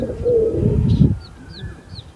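A Banarasi pigeon coos in a low, soft throaty burst near the start, followed by a few faint high chirps as the sound fades.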